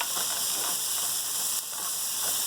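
Zucchini sizzles steadily in olive oil with garlic and paprika, a continuous close, even frying hiss with faint soft stirring textures and no talking.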